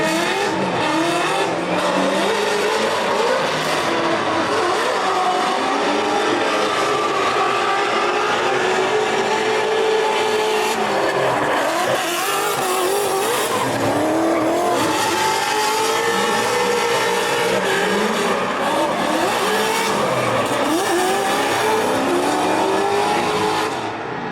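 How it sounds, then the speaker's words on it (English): Drift cars race through a Great Lakes Pro Am Top 32 run, a Mustang with a Voodoo engine among them, engines roaring and revving loudly and continuously with tire squeal throughout, no talk over it. "Eric Kananowicz with the Voodoo Power under the hood of the Mustang there, Andrew Falk with the LS."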